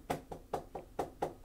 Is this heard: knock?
yes